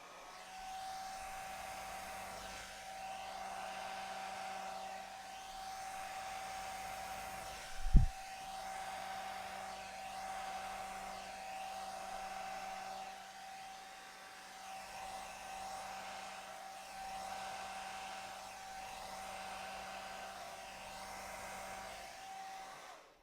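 Steady airflow from a hair dryer blowing across acrylic paint in a Dutch pour, a continuous close whooshing drone with a faint whine and one brief thump partway through, no talk.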